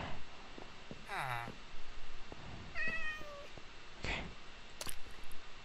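A cat meows a few times inside the Minecraft video game, with short tonal calls sounding at moderate loudness between bits of talk and game noise.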